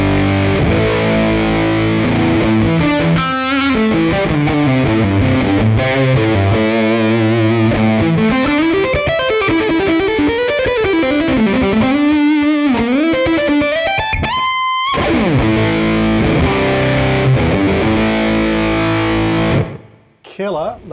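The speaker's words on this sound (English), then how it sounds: "let's go to the Crimson now, and again, distortion or fuzz halfway up, tone halfway up, volume halfway up" Electric guitar played through a JHS Crimson fuzz pedal with distortion, tone and volume set halfway, giving a thick, saturated sustained tone with bending melodic runs and chords, loud and continuous, with a brief drop near the end.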